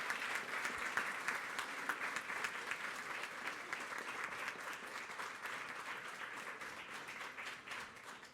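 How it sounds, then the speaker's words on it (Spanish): Sustained applause from a Mass congregation fills the space, a thick crowd of hands clapping steadily and evenly, tapering slightly toward the end. "Un aplauso fuerte."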